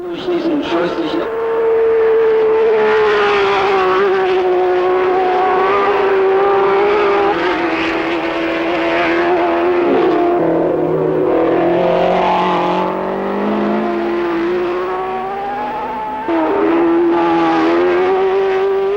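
Screaming 1967 Formula 1 engines howl as cars race nose to tail around the Nordschleife, a loud sustained wail with shifting pitch as they pass, under a commentator speaking throughout.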